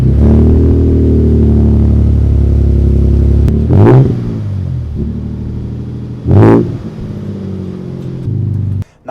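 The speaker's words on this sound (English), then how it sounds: "start her up, and see if there's any drone on the inside, and this will get some exhaust sound footage for you guys" A 2022 Toyota Tundra with an MBRP aftermarket exhaust idles with a steady deep rumble, then blips the throttle twice in sharp, loud revs that swell and fall back to idle, heard close and with no talking.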